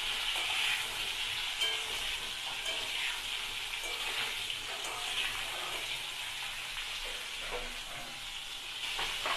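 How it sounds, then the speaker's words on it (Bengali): Pointed gourd frying in a pan gives a steady, dense sizzle that carries on evenly for the whole stretch, close and moderately loud, with no voices over it. "পটলটাও ভাজা হচ্ছে।"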